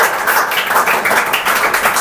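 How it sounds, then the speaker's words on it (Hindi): An audience claps for a cash-prize winner at a live quiz event, a dense, steady patter of many hands close and loud throughout, with no talk over it. "इनके लिए आप तालियां बजाइए"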